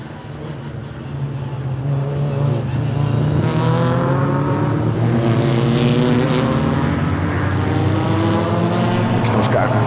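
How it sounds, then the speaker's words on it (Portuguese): Classic 1300 race cars from a Portuguese classics and legends championship race roar through the Mateus roundabout, a loud, sustained engine drone whose pitch climbs and wavers as the cars accelerate past close by. "Aqui estão os carros na rotunda de Mateus"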